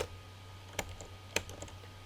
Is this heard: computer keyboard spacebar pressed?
yes